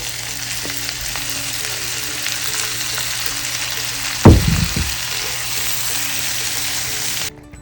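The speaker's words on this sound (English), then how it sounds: "Then we fried the tomatillos." Tomatillos frying in sesame oil in a pan give a steady, loud sizzle throughout, with one brief thump and surge midway, no voices.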